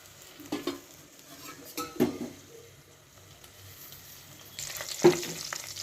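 Oil going into a pressure cooker holding stuffed brinjals over a lit gas flame: light sizzling and crackle mixed with metallic clinks and scrapes of utensils against the pot, with a brighter hiss swelling near the end.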